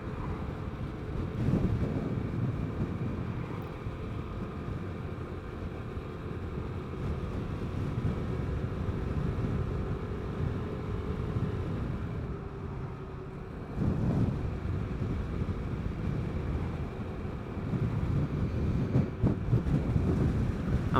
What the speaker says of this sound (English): I'm glad it's windy today.